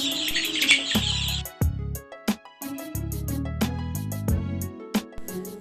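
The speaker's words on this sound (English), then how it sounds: "The birds love singing." Birds chirp and tweet in quick bright bursts early on, set among clipped electronic tones and thumps that start and stop abruptly.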